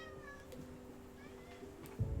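Cats meowing in a Graveyard Keeper game scene, a few short tonal meows rising over steady background game music, with a louder burst near the end.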